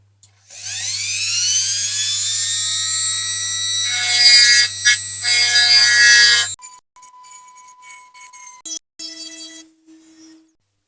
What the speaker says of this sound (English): So I will get a sharp pointy grinder out.